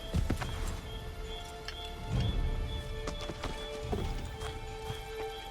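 A horse's hooves clip-clop in irregular, moderately paced steps in Assassin's Creed III, soft and somewhat distant against a faint steady ambient tone.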